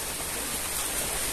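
Heavy rain pours down in a continuous, dense hiss, like water on a roof or pavement during a downpour. It sounds fairly loud and even, with no talking.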